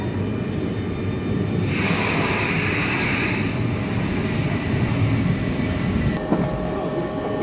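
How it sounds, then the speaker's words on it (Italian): A loud, steady low rumble of an Italian high-speed train rolling into a station platform, with a hissing swell and a brief metallic squeal near the end. "Ok, il treno è quello, sta arrivando."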